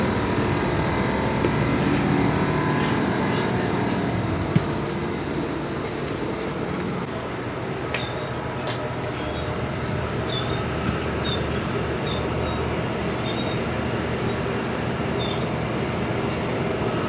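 A train running along rail track past vineyards on a European route near Cologne gives a steady, close rumble and rattle of wheels, continuous and even throughout with no one talking.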